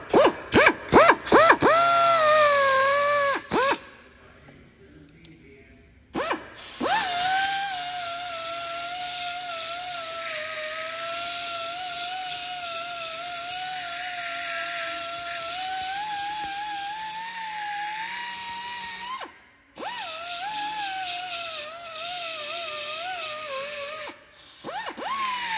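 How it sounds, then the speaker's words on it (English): A small mini belt sander files a piece of scrap aluminum shaped into a hood scoop, its whirring motor pitch wavering under load and dropping out twice in short pauses before starting again, loud and close. "this is a little mini belt sander, and it works great for filing stuff like this."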